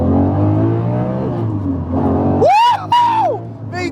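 The V12 engine of a Lamborghini Murcielago SV idles with a deep, loud rumble, then gives two sharp revs that rise and fall in quick succession, close up and heard over a faint voice.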